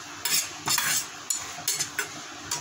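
Mawa with dry fruits roasting in a pan for chandrakala gujiya, with bursts of scraping and stirring against the metal and a light sizzle between strokes, close and alone.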